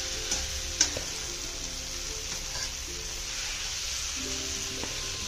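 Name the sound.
onion and chutney frying in oil in a pan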